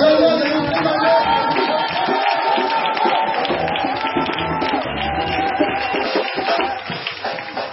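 A large congregation at a night vigil cheers, shouts and claps as the prophet Joel Krasso makes his entrance, a dense continuous roar of voices with scattered clapping that fades slightly toward the end.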